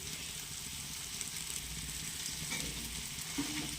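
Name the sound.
stirring ginger garlic paste into tomatoes frying in a pan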